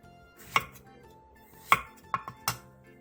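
Knife slicing two eggplants diagonally into thin rounds on a cutting board, heard as four sharp, close chopping thuds spaced unevenly, with quiet room tone between strokes.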